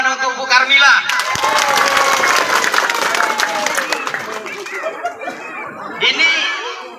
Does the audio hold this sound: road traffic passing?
no